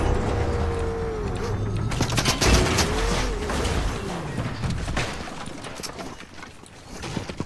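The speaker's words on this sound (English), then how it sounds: "I already know there's gunshots this way." Gunfire from the Fortnite video game crackles through a busy game soundscape, with bursts of shots and impacts clustered near the middle amid steady engine-like rumble and other effects.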